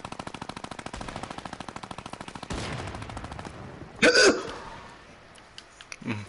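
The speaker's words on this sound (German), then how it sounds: "Es gibt immer einen im Turnier, der Minigun spielt." Rapid minigun fire in a video game tournament match, a fast, even stream of close mechanical shots in long bursts, followed by a sharp louder blast and a fading tail.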